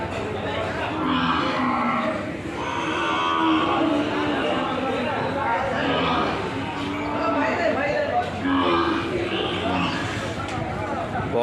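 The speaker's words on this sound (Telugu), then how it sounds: "బుడ్డి బుడ్డి దూడలు వచ్చినాయి" Calves and cattle moo repeatedly at a large, busy cattle market, their low, drawn-out calls rising and falling close by, layered over crowd chatter and background voices.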